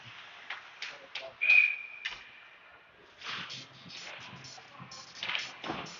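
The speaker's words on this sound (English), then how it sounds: "Shot was going to be wide, but Colton Brandt gloved it to get a whistle." A referee's whistle sounds once in a single short, sharp blast at a youth Bantam AA ice hockey tournament game between Rochester and Farmington, cutting through the rink's echoing skate scrapes and crowd noise.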